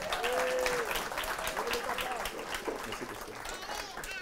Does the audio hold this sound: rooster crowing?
no